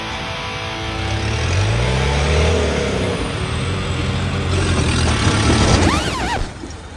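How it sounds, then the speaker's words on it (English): A Toyota Hilux climbs steep quarry hills, its engine revving and rising in pitch as it strains uphill, then dropping away, loud and fairly close with rough terrain noise. "Just took the old Hilux out for a bit of a test before we hand it back to Kev"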